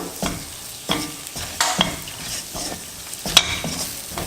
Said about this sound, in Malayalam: ഇനി അതിലേക്ക് നമ്മൾ കാശ്മീരി ചില്ലി പൗഡർ ചേർക്കുകയാണ്. മുളക് പൊടി പെട്ടെന്ന് തന്നെ മൂത്ത് കിട്ടും.